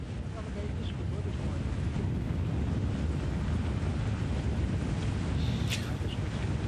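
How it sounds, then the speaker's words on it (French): Wind buffeting a microphone during a cycling race broadcast in Croatia, a continuous loud gusting roar that stays steady throughout, with the faint trace of a voice underneath. "Il y a du vent."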